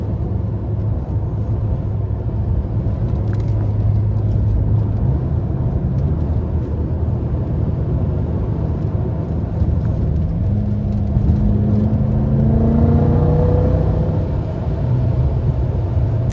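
A BMW F10 M5 driven on a warm day, floored in fourth gear: a loud continuous engine drone with rising tones as it pulls hard, heard from inside the car.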